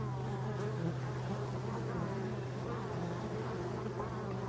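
Honeybees buzz steadily at a forest hive while foragers bring in pollen, a dense continuous insect hum close to the entrance with no voices over it.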